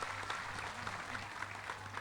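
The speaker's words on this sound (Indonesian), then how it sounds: "Tepuk tangan untuk Pak Dirlantas." Audience applause for a traffic police director at a National Santri Day religious gathering, a steady dense patter of clapping with a faint low hum underneath, evenly sustained for a couple of seconds.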